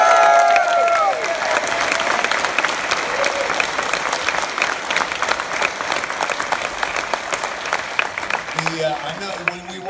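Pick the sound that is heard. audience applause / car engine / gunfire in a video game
audience applause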